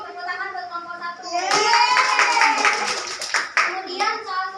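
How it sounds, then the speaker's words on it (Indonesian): A classroom of students claps in applause for a group, a dense burst of hand claps rising after a second and continuing close by over children's voices and talk. "Tepuk tangan buat kelompok 1."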